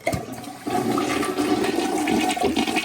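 A toilet with a newly replaced fill valve flushes in one loud, close rush of swirling water that starts abruptly and keeps gushing steadily, with no talking.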